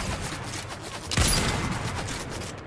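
Gunfire in the video game Fortnite: a single sharp shot cracks out against a noisy in-game background, with faint scattered pops around it and no voices.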